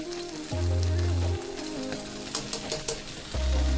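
Four cloves of chopped garlic hit a hot frying pan for oxtail soup, giving a steady sizzle and frying crackle with soft stirring clatter, moderately close, and no voices.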